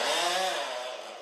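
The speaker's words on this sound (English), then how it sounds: "I think maybe the sound is pleasing for you, chainsaws" A chainsaw engine runs at a steady high-revving whine in a forestry setting, loud and continuous for its whole length and fading slightly toward the end, with no voices over it.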